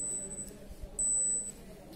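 A digital thermometer gives a high, piercing electronic beep, with short chirps and a longer sustained tone.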